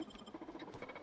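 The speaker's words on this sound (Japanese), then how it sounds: "さっきはすごい小動物の音聞こえるな" Small creature scurrying and pattering in The Outer Worlds: Spacer's Choice Edition, a quick run of soft, evenly spaced scratchy taps over a low game ambience, with no one talking.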